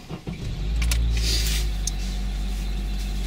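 A 2002 Acura RSX with a manual gearbox cranks briefly and catches, settling into a steady low idle close by, with a few small clicks and rattles at the start and no talking.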